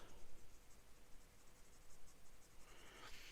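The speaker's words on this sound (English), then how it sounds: "So let's do an ink swatch." Visconti Luxor Obelisk fountain pen with a wet medium nib laying down an ink swatch on paper, a faint close scratchy rustle of nib strokes with a brief brighter scrape near the end, no talk.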